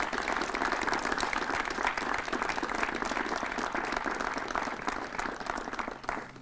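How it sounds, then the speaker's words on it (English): An audience at a city news conference applauds volunteers, a sustained, even roar of clapping at moderate loudness that continues unbroken for several seconds. "So I'd like to give these volunteers a round of applause as well."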